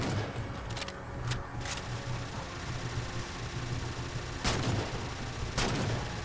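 Light rifle gunfire in Halo 4, with several sharp shots and short bursts at irregular intervals over a steady low rumble of in-game ambience, fairly loud and with no talking.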